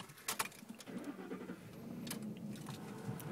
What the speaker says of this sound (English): Turn on this car because it's goddamn hot in here.